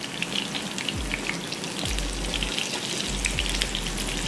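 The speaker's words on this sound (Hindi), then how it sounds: "धड़म से मच्छी पलटी हो जाती है तो फिर तेल उड़ जाता है" Rohu fish pieces frying in hot oil in a pan, a steady close crackling sizzle with scattered pops and spits running throughout.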